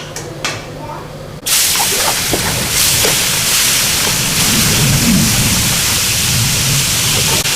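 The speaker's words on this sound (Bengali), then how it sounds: "তো মাছগুলোকে সুন্দর করে আমরা ফ্রাই করে দেবো।" Pomfret fish dropped into very hot oil for frying, bursting into a loud, steady sizzle that fills the space after a brief quieter moment with some clatter.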